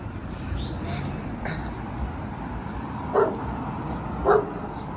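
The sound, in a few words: dog barking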